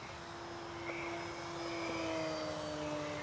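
Durafly Excalibur warmliner RC plane on a knife edge pass, its electric motor a steady droning whine with a faint pitch shift midway, continuous and moderately distant with no talk.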